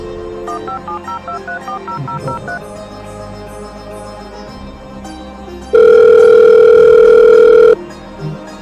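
A quick run of telephone keypad tones, then a pause and a single long, loud ringback tone, with no one speaking.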